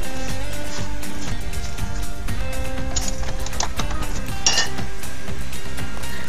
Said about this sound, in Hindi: अब देखिए हम प्याज फ्राई कर रहे हैं।